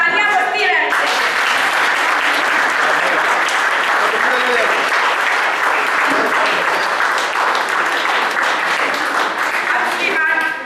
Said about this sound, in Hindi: और तालियां बजती रहें।